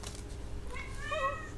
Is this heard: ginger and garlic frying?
no